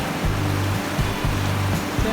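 Flood water rushes over a road in a steady, loud roar of broadband noise, with a low, regular pulsing throbbing underneath and no voices.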